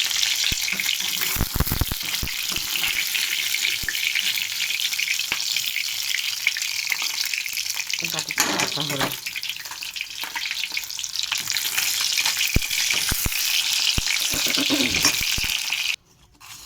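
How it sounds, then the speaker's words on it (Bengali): Fish pieces sizzle in hot oil with a dense, close crackle, and a few clinks and scrapes come as pieces are lifted out one by one. The frying cuts off near the end, and a brief spoken phrase is heard. "তো দেখো আমার মাছগুলো ভাজা হয়ে গেছে, এক এক করে তুলবো"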